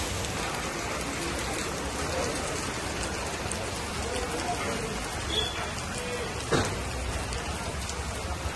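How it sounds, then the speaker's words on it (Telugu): Continuous heavy rain pours down in Hyderabad, a dense, close hiss that stays steady throughout, with a few brief splashes or knocks standing out near the end. "హైదరాబాద్లో నిన్నటి నుంచి వర్షం కురుస్తూనే ఉంది"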